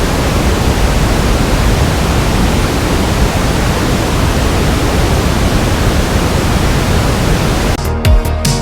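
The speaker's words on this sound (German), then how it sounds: "habe ich den Perfect Balance Noise reingeladen" Perfect Balance pink noise reference signal playing as a loud, even, continuous hiss across the whole range, unchanging for several seconds before cutting off abruptly near the end.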